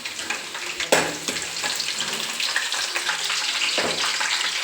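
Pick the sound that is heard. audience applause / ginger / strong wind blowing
ginger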